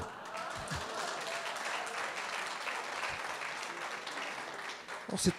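An audience at an agricultural education conference applauds, with soft, even clapping spread across the room at a fairly distant, modest level and a few sharper knocks near the end.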